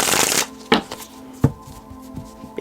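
A full deck of tarot cards is shuffled by hand: a riffling burst, then several sharp taps and slaps as the cards are squared, close and clear.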